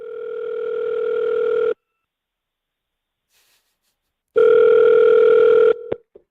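Telephone ringback tone heard while calling a Honda dealership: a loud steady electronic tone for about two seconds, a long silence, then a second ring that cuts off abruptly.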